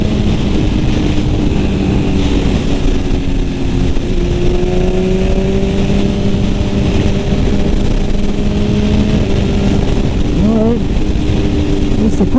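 A 2021 BMW S1000RR motorcycle engine drones steadily and loudly throughout, its pitch gliding and shifting as it revs through quick-shifted gears, with a sharper rise near the end.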